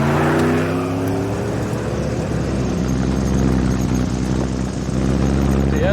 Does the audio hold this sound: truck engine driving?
yes